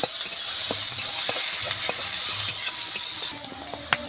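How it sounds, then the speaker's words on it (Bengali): Onion sizzling lightly in hot oil with cumin, chilli and bay leaf in a wok, a steady close frying hiss with occasional stirring scrapes and soft taps throughout. "পেঁয়াজটা দিয়ে একটু হালকা ভেজে নেব।"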